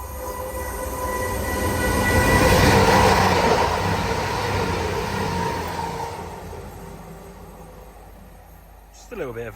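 A train passes through Belper station, rolling by with a loud rumble and a rising then falling roar that peaks partway through, rail hums and squeals above it, and people talking over the passage.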